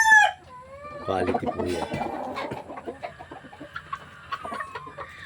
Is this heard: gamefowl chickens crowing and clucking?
yes